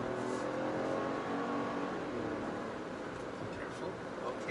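Three-cylinder Proton car accelerating hard at full throttle, a steady loud engine drone with wind and road roar filling the cabin throughout.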